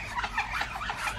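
Close, busy clucking and chattering of chickens, several birds calling over one another continuously.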